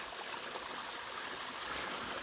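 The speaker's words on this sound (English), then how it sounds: "all that water's coming out of an old mine opening up here at the top of the hill." Water flows out of an old mine opening at the top of a wooded hill, making a steady, close, continuous rushing trickle with no other sounds.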